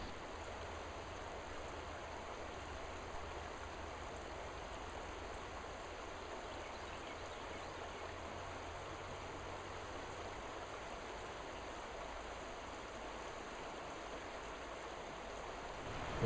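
A river flowing steadily and peacefully, a continuous broadband wash of moving water, close and even throughout with no talk.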